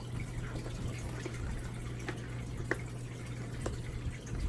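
Water trickles through a filter piece on a fish aquarium, a soft continuous flow with faint intermittent drips under a low steady hum.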